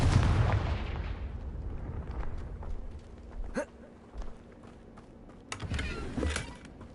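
Confringo spell blast in Hogwarts Legacy, a loud booming explosion that decays into a rumbling tail, followed by smaller crackling magic effects and a second burst.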